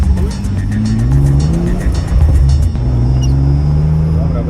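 A car accelerating hard into a drift, its engine note climbing while tires squeal, loud and close throughout with faint voices in the background.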